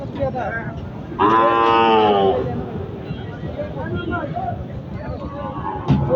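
A cow gives one loud, drawn-out moo at a cattle market, close by, with people talking and crowd babble around it before and after.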